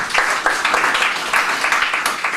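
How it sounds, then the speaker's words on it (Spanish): A church congregation breaks into loud, sustained applause, dense overlapping clapping with rhythmic surges that fills the space throughout without any talk over it. "Démosle un fuerte aplauso al Señor"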